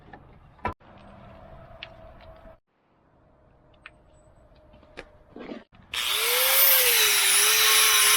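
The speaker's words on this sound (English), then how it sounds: "then we'll drill holes for our drawbar" Power drill boring into steel square tube for a quick hitch drawbar: faint ticks and taps first, then a loud whining drill run starts and holds steady to the end.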